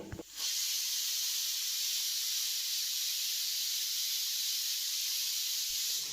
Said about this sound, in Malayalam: ഇനി നമുക്ക് കുക്കർ അടച്ചു വെച്ച് ഒരു 4-5 വിസിൽ വരുന്നത് വരെ വെയിറ്റ് ചെയ്യാം.